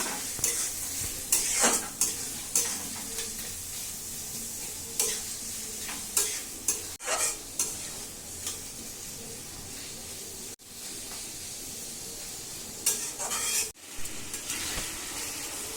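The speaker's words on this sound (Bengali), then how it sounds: "এখানে আমি পেঁয়াজটা ভাজতেছি" Onions frying in a pan for chicken biryani made with country rooster, a steady sizzle broken by repeated scraping stirs, close and fairly loud, with no talking.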